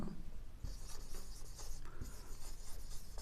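Chalk or marker writing on a classroom board makes quick, scratchy strokes in short bursts, close and faint, with no voices over it.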